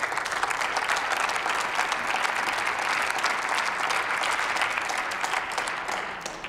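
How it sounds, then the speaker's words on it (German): Sustained applause fills a parliamentary chamber during a debate, dense and steady clapping from many members holding at an even level throughout before easing slightly at the end. "Applaus"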